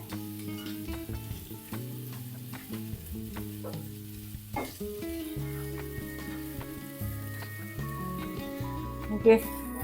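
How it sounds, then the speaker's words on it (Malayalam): Onions sautéing in a pan until light brown give off a soft, continuous sizzle and occasional stirring scrapes beneath tonal background music and a voice. "ഇത് നല്ല വഴറ്റിയെടുക്കണം. വഴറ്റിയെടുക്കുക എല്ലാവരും ഇളം ബ്രൗൺ കളറാവണേ"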